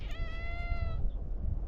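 A pet cat named Sashimi, in a camper, gives a single clear meow of about a second, close by and fairly quiet, with no talking over it.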